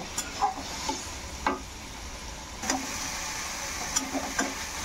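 Bottle gourd stir-fried in a pan with salt, giving a soft, steady frying hiss broken by scattered clicks and scrapes of a spatula, fairly quiet and heard without voices.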